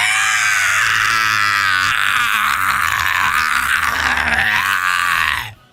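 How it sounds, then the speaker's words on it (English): Frieza, the anime tyrant of Universe 7, screams in pain after being struck by Beerus's Hakai power. The loud, sustained, strained cry lasts several seconds and then cuts off abruptly. "Frieza starts screaming in pain."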